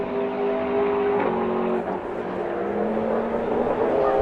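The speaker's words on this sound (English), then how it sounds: "We'll get that gap, of course, as the Ferrari comes across the line." Ferrari race car crossing the finish line in a SAGTRA race, an engine note rising and shifting as it passes, fairly loud over steady track noise, no talk.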